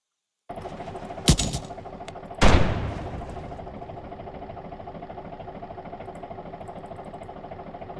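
A tank cannon fires twice in an Unreal Engine 5 demo, two sharp, loud blasts a little over a second apart, the second followed by a rumbling decay over a steady engine idle hum.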